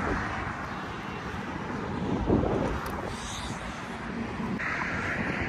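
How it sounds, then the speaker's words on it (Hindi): Cold wind blows steadily at Har Ki Pauri on the Ganges in Haridwar, Uttarakhand, a continuous broadband rush with microphone buffeting that swells slightly midway, with no talking. "इधर बहुत अच्छी ठंडी हवा चल रही है"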